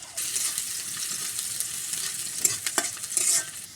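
Chopped onion and bay leaf frying in oil in a wok, giving a bright, steady sizzle up close with a few stirring scrapes and clinks toward the end.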